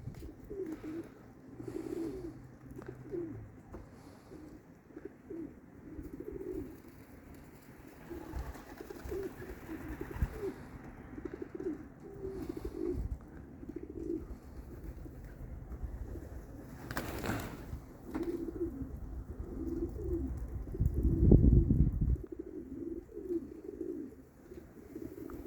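Pigeons cooing in a loft on a cold day. Soft, low, repeated coos roll on steadily throughout, with a brief louder flutter or knock near the end.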